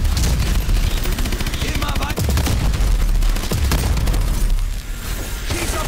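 Dense, loud gunfire from Call of Duty: Advanced Warfare, rapid bursts and booming shots layered almost continuously, with a brief spoken word in the middle of the barrage.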